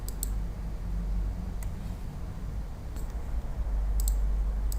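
A computer mouse clicks while AutoCAD Plant 3D is in use: five or so faint, sparse single clicks spaced irregularly over a low steady hum, with no talking.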